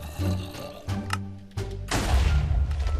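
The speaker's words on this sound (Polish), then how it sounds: "jeszcze więcej TNT, jeszcze większy wybuch" A TNT explosion fired from a cannon in the video game Minecraft: a few dull thumps and pops, then a loud, broad blast that rumbles on to the end.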